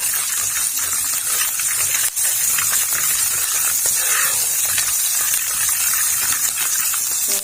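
Hot desi ghee for a dal tadka sizzles and hisses steadily and loudly, a constant crackling spray with no voices.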